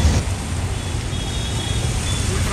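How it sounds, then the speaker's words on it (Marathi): Steady street traffic in a busy market area with a jam, a continuous low roar of engines and road noise filling the background without pause. "ट्रॅफिक"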